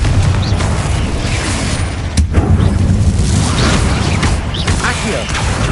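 Repeated booming blasts of the Confringo fire spell in Hogwarts Legacy, dense and loud throughout amid busy combat noise, with a voice calling out over it.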